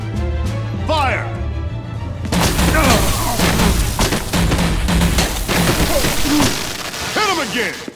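Gunfire and booming impacts in a Batman: The Enemy Within game scene, loud bursts of shots crashing in after a quiet opening, mixed with shouting voices throughout.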